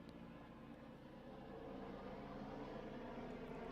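A helicopter flies close overhead during a Championship cricket match, a steady, muffled droning rumble that swells slightly louder partway through, heard faintly and without speech.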